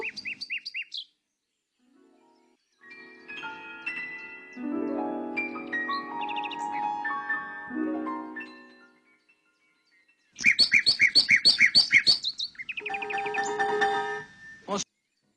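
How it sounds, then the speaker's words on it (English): Nightingale song, bursts of bright chirps, trills and varied whistled phrases separated by short silences, clear and fairly close. "Et voici le rossignol"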